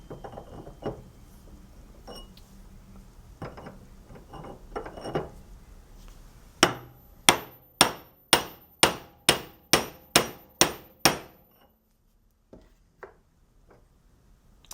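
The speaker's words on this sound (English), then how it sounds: "I'm using a couple pound sledge" Roughly ten sharp, evenly spaced sledgehammer blows of a couple pounds ring out on a metal drift, driving the center pulley bearing out of a drill press; handling clatter comes before the strikes and a few faint taps follow.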